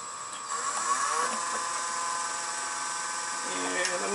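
Toy wheel blanks, four at a time, spin on a wood lathe with a steady high-pitched whine and tonal hum that runs continuously, fairly loud and close, with a brief lower rumble near the end.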